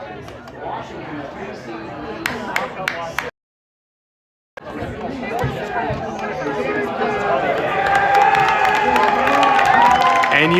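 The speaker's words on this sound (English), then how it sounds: "And you can hear the home crowd getting into it." A home crowd at a boys' high school rugby state championship match in Cedar Rapids cheers and shouts, building steadily louder after a brief gap, with a commentator's voice talking over the noise.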